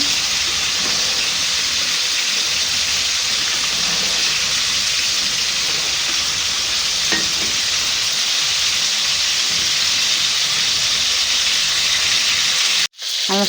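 Potato chips frying in hot oil give off a steady, dense, hissing sizzle that holds evenly throughout, with a few faint crackles, then cut off abruptly near the end.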